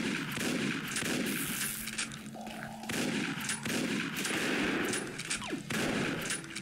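Rapid gunfire from the Pixel Warrior video game comes in repeated bursts, with shots crackling from several directions in quick, uneven volleys and brief gaps between them, loud and continuous with no talking.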